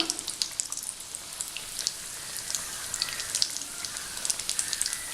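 Red spinach cutlets fry in hot oil, giving a steady crackling sizzle with dense, irregular pops, close and moderately loud, with no voices.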